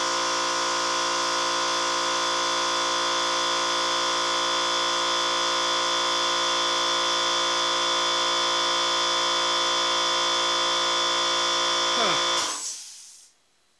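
A milling machine facing a metal block runs as a steady, loud whine with a constant tone, then spins down and stops near the end, with no talking.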